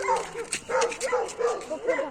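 A dog yips and barks in short bursts during an evening play session outdoors in the dark, the sounds mixed with people talking nearby.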